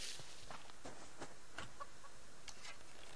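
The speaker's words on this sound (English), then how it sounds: "This one. Chicken." Chickens caught in a trap in the survival video game Subsistence cluck in short, faint bursts spread over a few seconds, with soft rustling and footstep-like noises between them and no talking.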